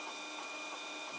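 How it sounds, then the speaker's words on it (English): A belt-driven 3D printer hums and whines faintly as its bed and carriage move during auto leveling, a short, steady mechanical tone with no talking. "the bed itself is moving and the carriage is moving, to allow for any out of level"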